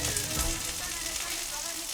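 Food crackles and sizzles steadily in hot oil, a bright, constant hiss with scattered pops, close up.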